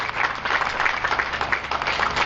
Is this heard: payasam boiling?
no